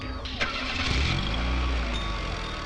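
A car engine cranks and catches, then settles into a steady idle and pulls away, with voices talking over it.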